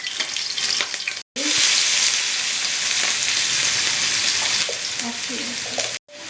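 Cumin seeds, mustard seeds and green chillies fry in hot oil in a pan, giving a loud, close, steady hiss with occasional stirring scrapes, cut by two brief silent breaks.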